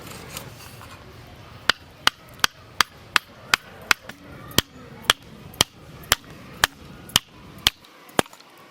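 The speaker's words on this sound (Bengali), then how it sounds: "কাটাই যায় না, এত শক্ত রিঠি মাছের কাটা" Hard bones of a rita fish being chopped with a blade on a board in a village kitchen, a steady run of about fifteen sharp, loud thwacks at a regular pace.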